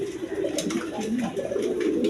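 A pair of Indian Bombay pigeons coo in soft, repeated low rolling calls, close by and continuous.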